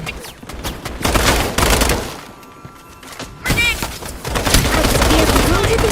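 Gunfire in the video game Stirnova: sustained bursts of shots and heavy impacts come loud and close, with a short lull in the middle before the firing picks up again.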